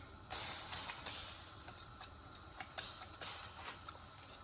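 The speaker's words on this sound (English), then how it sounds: "So here I'm going to spray some olive oil on that." Several short bursts of olive oil spray hiss out of a spray can in quick succession, close and fairly soft, with small clicks of the nozzle between them.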